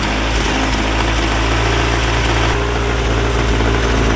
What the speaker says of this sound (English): Brian, you broke the exhaust.